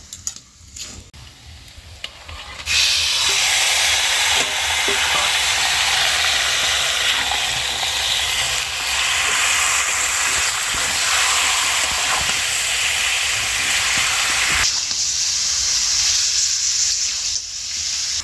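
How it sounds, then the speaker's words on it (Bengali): Chicken pieces hitting a hot pan of fried onion, ginger and garlic make a loud, steady sizzle. The sizzle fills the clip after a quieter opening and continues without a break, with no voices heard. "আদা রসুনটাও ভেজে নিয়েছি, এবারে মাংসটাকে দিয়ে দেবো।"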